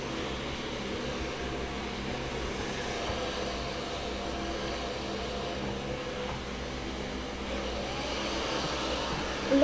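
A hair dryer blows steadily during a haircut while hair is brushed, a continuous broadband whoosh at constant level for the whole stretch, with no clear talk over it.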